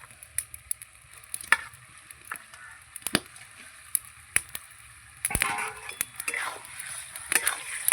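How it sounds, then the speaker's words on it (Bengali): Goat liver and pieces of goat fat fry with spices in a pan. Scattered clicks and utensil clatter come first, then the sizzle swells louder and denser partway through. "এবার খাসির মাংসের মেটে আর চর্বি দিয়ে আমি কষাবো"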